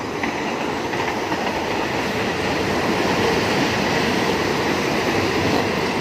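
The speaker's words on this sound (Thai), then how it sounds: "ตอนนี้ขบวนรถไฟมานำครับ พอดีครับ ขบวนรถไฟมาจากกรุงเทพนะครับเนาะ" A train arriving at a station rumbles steadily nearby with a continuous low roar and faint rattling of wheels, no voices.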